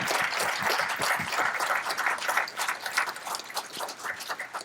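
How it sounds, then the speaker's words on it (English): Audience at a cruise industry meeting breaks into applause, a dense, close wash of clapping with distinct individual claps, steady then gently fading and thinning. "So give St. Kitts a round of applause for that."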